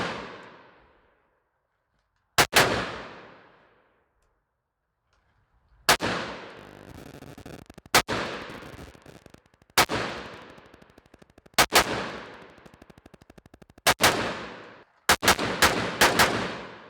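Gunshots from a gun fitted with a CMC trigger: nine loud, sharp reports with echoing tails, first spaced several seconds apart, then coming faster in a closing cluster, fired alone with no talk.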